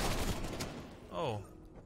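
Gunfire in Call of Duty Cold War, rapid shots rattling in bursts through a busy game mix, with a player talking over the action.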